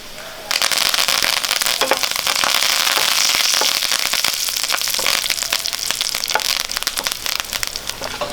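Three cut dried red chillies and curry leaves hit hot oil for a drumstick curry tempering, bursting at once into loud, dense crackling and spitting that keeps up with sharp pops, close and without talk.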